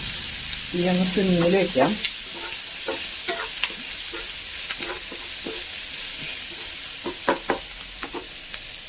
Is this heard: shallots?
yes